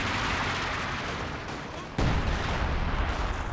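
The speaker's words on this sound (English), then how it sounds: "we've got a howitzer coming in from Kato into the center" A howitzer in Company of Heroes 2 fires amid a rumbling battlefield; one sharp, loud blast near the two-second mark breaks through the steady background of distant fire.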